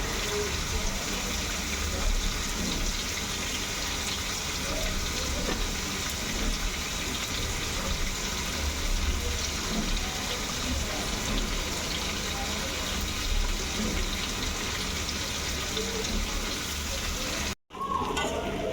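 Steady loud sizzling of shrimp frying in a hot pan, continuous crackle throughout with a brief cut near the end.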